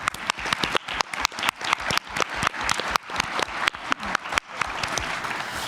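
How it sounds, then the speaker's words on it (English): Conference audience applause, a steady patter of many hands clapping that fills the room for several seconds before tapering slightly toward the end. "just one more round of applause for Sheldon and Dean and the whole team."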